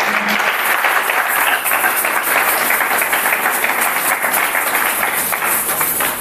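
A church congregation bursts into loud, sustained applause acclaiming Jesus during a French-language deliverance service, with dense continuous clapping filling the room from start to finish.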